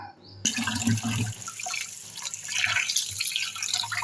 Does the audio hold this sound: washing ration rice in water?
yes